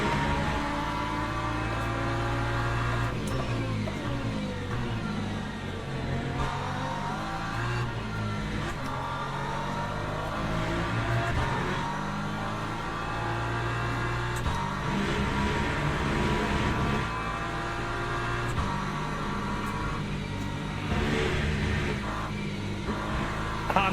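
Race car engines at Silverstone in the racing simulator Le Mans Ultimate, with LMP2 and LMP3 prototypes on track: a loud, sustained engine drone rising and falling through gear shifts and revs for the whole stretch, with no talk.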